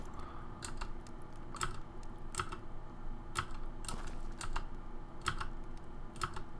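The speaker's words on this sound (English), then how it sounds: "Yes, that's my annoying keyboard." Keys clatter on a computer keyboard in irregular bursts of crisp clicks, fairly faint and close, with short pauses between runs of typing.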